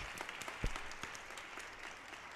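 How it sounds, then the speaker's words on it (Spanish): Applause from an audience at an educational talk on habits of mind, greeting a speaker; steady, fairly distant clapping across the whole stretch, moderately faint, with no voices over it. "Por favor, un aplauso para Derek."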